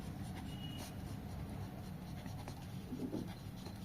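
Pen writing notes on paper during an income tax lesson, a steady soft scratching that runs through the whole stretch with no talk.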